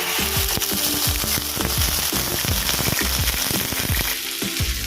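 Ginger paste dropped into hot oil with whole spices for a pointed gourd and rice dish, a loud, dense crackling sizzle with rapid popping spatters that continues steadily throughout.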